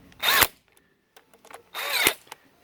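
An impact driver tightens bolts on a Recreative Industries Max II track in two short, loud, close bursts of rattling whir, with faint clicks and handling noise in the gap between them.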